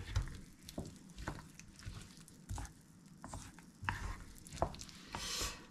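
Olive oil and lemon are mixed into a dressing, with soft, irregular stirring and sloshing taps close up, quiet and intermittent.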